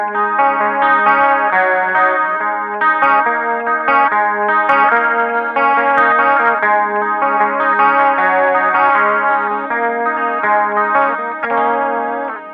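An electric guitar played through a chorus pedal to mimic a 12-string, with the distortion switched off, rings out a shimmering, continuous strummed riff with sustained open-string drone, loud and close with no talking.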